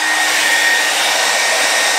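A hair dryer blows on an acrylic pour painting canvas, a loud, steady whooshing hiss with a faint whine, continuous and close, with no voices.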